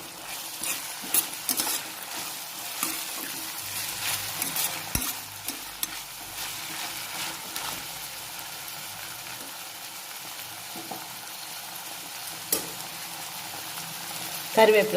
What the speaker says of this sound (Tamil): அவரைக்காய் போட்டு வதக்கணும்